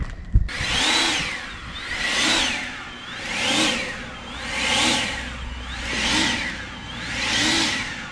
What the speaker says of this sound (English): I'm gonna get my blower out and I'm gonna blow this off.